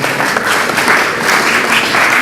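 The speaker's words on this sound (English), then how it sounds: "A round of applause, ladies and gentlemen." Loud, dense audience applause at a youth achievers summit and award evening, a continuous burst of clapping lasting a couple of seconds with no speech over it.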